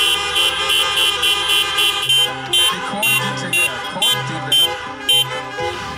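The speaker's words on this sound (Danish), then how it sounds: "Nu kan jeg sådan godt tænke mig at høre, om man kan dytte i takt." Car horns honking in time at a 2020 drive-in concert in Denmark: loud, repeated blasts in a steady rhythm, stopping and starting together over sustained tones.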